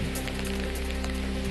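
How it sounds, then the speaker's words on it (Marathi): Heavy rain with stormy wind in Satara makes a dense, constant hiss throughout a brief stretch, with a low steady hum underneath and no voices. "साताऱ्यात वादळी वाऱ्यासह मुसळधार पावसाची हजेरी"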